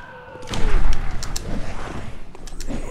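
A loud, sharp gunshot from the game Bloodborne on PS4 bursts out in the first second, followed by rumbling echoes and smaller impacts over a noisy game backdrop.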